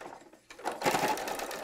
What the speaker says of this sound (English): you can see how the machine had to work to get over that bump